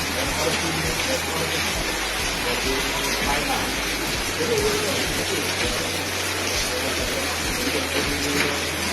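Steady rain pours down during a police sealing of a house that doubled as a midwife's clinic, a dense constant hiss with faint voices murmuring beneath it.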